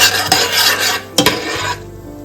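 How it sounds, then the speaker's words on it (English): Cardamom, cloves and spices stirred quickly in a hot oily pan for a vegetarian soya chunks dry fry: a loud, close sizzle with two sharp scraping strokes of the spoon against the pan, then the sizzle cuts off. "Give a quick stir."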